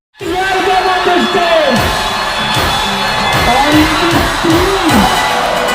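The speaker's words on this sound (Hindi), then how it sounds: "आप देख सकते हैं इनका स्वागत करने के लिए जोरदार तालियों से" A hall crowd at a Team Force Halla Bol event in Lata Mangeshkar Hall erupts in loud, sustained cheering, with whoops, yells and shouts rising over a dense roar of applause throughout.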